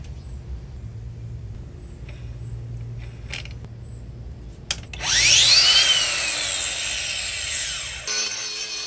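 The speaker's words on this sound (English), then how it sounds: "Got the angle grinder attachment from Spider. This is a masonry cup wheel, and it really was taking care of the paint pretty well." A battery angle grinder fitted with a masonry cup wheel strips paint from a post, cutting in abruptly with a loud, steady high-pitched grinding whine after a quiet stretch, then stopping near the end.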